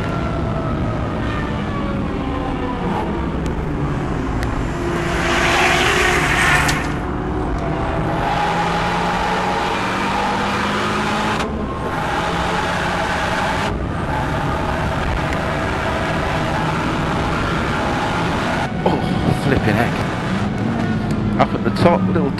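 A Renault Megane R26R is driven hard around a race track on a hot day, its engine roaring steadily with shifts and changing pitch, heard from inside the car with someone talking over it.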